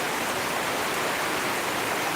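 Afternoon rain pours steadily beside a house, a dense even hiss of drops filling the space without pause, loud and close, with no voices.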